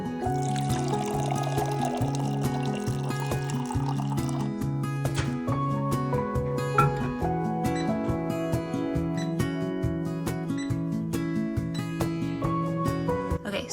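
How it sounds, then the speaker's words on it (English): Hot water poured into a cup for a honey drink at home, a soft steady splash in the first few seconds over continuous background music. "So just some hot water"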